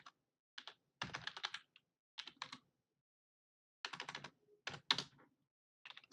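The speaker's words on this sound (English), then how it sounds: "So you just type mongo restore" Quiet, close keystrokes on a computer keyboard tap out a command in short clustered bursts separated by brief pauses.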